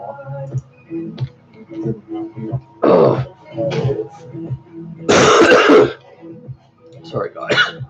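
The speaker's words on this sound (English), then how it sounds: "For my coughing." Someone coughs and clears their throat up close in several rough bursts, mixed with short spoken remarks and clicks.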